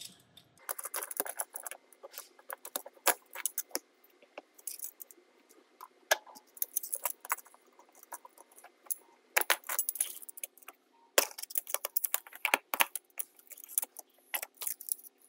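Metal valve puller pushed through individual valve seats in a Sterlitech benchtop system pump head, giving repeated small clicks, taps and metallic rattles in irregular bursts, close and fairly quiet, with no talking.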